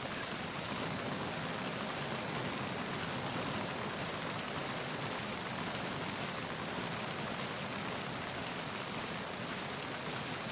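Steady, dense rain from the video game Metal Gear Solid 2, a constant hiss of downpour with no breaks or changes, loud and even throughout with no talk.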